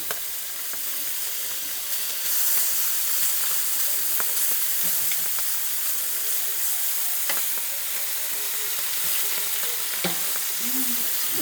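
Bacon fries in a warped pan, giving a steady, loud sizzle with scattered pops and the clink of a utensil stirring now and then, with no talking.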